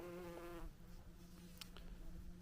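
Close, faint bees buzzing around wildflowers drone continuously, a steady hum with slight wavering in pitch, alone in a quiet outdoor setting on a mountain hiking trail.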